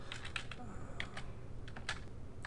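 Fingers tap a computer keyboard while text in a PDF is being edited, giving a quiet, irregular run of light clicks with short gaps between keystrokes.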